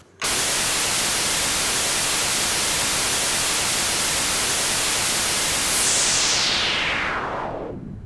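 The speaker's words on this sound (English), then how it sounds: "I just recorded some white noise, and by definition, the white noise should be equal in frequency" Recorded white noise passing through an Ableton low-pass and high-pass filter, a loud steady hiss that starts abruptly, then the highs are swept away so it darkens to a duller rush near the end.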